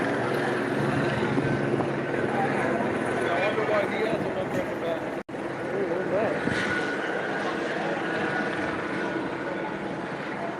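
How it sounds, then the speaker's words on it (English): A steady, loud helicopter drone fills the air overhead during street protests in Los Angeles, a dense roar that holds for the whole stretch with a brief dropout midway. "We got helicopters in the air."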